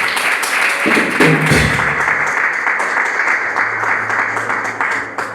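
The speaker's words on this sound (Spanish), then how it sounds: "Un fuerte aplauso para el Señor Jesucristo" A church congregation at an evening service breaks into steady applause, a dense and fairly loud clapping wash, with brief voices and a low tone rising through the middle and near the end.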